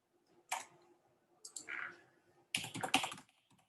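Typing on a computer keyboard, three short bursts of quick clicking keystrokes separated by near silence, close and moderately quiet, no talking.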